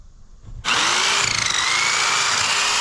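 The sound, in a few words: Craftsman corded hedge trimmer cutting bushes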